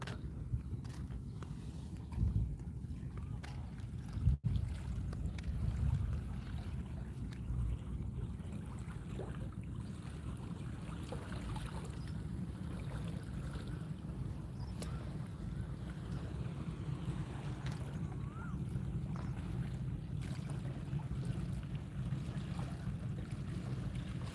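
Steady wind and the wash of rising sea water churning against posts at a temple in Samut Prakan, Thailand, a continuous low rumble with occasional knocks, no voices.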